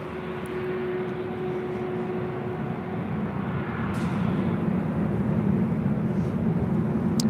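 A Delta Airlines Airbus A319 arriving at LAX from Dallas Love Field, a continuous low jet roar with a faint steady tone, swelling slightly as it draws nearer, no speech.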